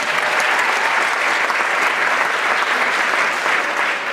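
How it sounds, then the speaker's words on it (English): Steady, dense applause from an audience at a winter choral concert, many hands clapping continuously at an even loudness throughout. "Please give him a round of applause"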